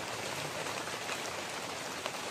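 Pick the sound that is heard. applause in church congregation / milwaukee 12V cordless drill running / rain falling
rain falling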